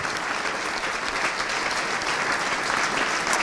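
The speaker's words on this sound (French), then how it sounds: "J'aimerais qu'on applaudisse, s'il vous plaît, Michel Bassompierre." A room full of people claps in sustained, dense applause that holds steady for the whole stretch.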